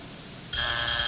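A quiz show buzzer cuts in abruptly halfway through, a loud sustained electronic tone that follows a near-silent moment and holds steady to the end.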